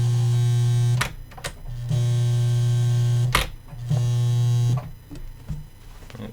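A sewing machine stitching a replacement zipper into a fabric sack runs loudly in three long bursts of steady motor hum, with short clicks and knocks in the pauses between runs.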